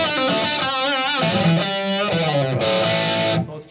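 Godin Telecaster electric guitar played through a small Spark practice amp on a Marshall amp model, distorted sustained notes and bends ringing with a crunchy overdriven tone, a short phrase that cuts off abruptly at the end.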